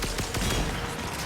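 Rapid gunfire from the PC shooter game Warframe, a dense string of quick shots rattling off in close succession with no talking.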